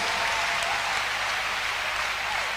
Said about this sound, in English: Clap your hands unto God of the chosen.